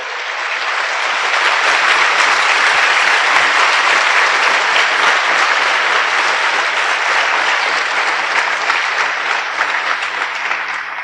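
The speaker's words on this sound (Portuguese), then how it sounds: "Se você crê, dê um forte aplauso ao Senhor" Church congregation giving a long, strong round of applause during a worship service, dense sustained clapping that swells quickly and stays loud and even before easing slightly at the end.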